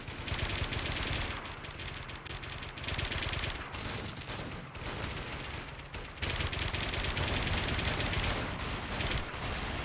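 Dense gunfire crackles in Warmode, a rough online shooter: bursts of machine-gun and rifle shots overlap in loud, continuous volleys, briefly dropping away twice before resuming at full intensity.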